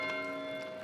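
A monastery bell rings in the medieval video game Pentiment, its steady metallic tone sustained and gently fading across the short moment, at a moderate level with no talk over it.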